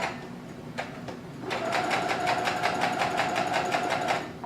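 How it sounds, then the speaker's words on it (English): Sewing machine running a back stitch on the armpit seam of a renaissance peasant tunic, a quiet start then a steady, rapid needle rhythm that continues loud and close for about three seconds. "I'm going to do a back stitch on the armpit as well."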